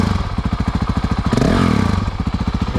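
A 2022 Honda CRF 450RL motorcycle engine runs close by with a rapid, pulsing thump, then briefly revs higher before dropping back to the same loud, steady beat.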